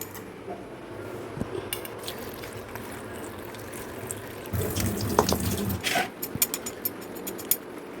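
Tap water runs and splashes while chopped food is washed in a village kitchen, a soft steady trickle with brief squishy handling and clinks of a vessel in the middle.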